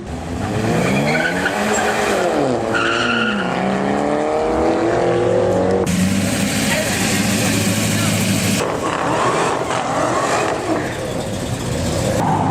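A BMW and a Mini Cooper launch side by side off the line on a drag strip, loud sustained engine roar with rising revs and tire noise, an announcer's voice running over the racket throughout.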